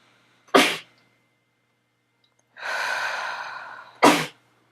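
A sharp sneeze, then a long breathy exhale, and a second sneeze, all close and clear against silence.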